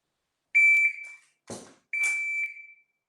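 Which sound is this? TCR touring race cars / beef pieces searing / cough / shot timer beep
shot timer beep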